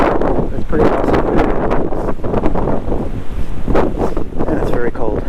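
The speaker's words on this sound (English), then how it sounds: "which is very cold, very windy" Strong, very cold wind roars and buffets the microphone in gusty bursts on Peters Mountain along the Appalachian Trail in Pennsylvania, loud and close, with a dull rushing background throughout.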